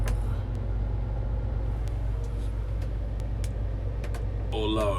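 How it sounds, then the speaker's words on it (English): A large crawler crane's diesel engine rumbles heavily and steadily, its low drone rising slightly as it revs higher, with brief clicks and a hiss of air near the end and no talk over it. "Now if you need to give it a bit more rev, up here we can give it"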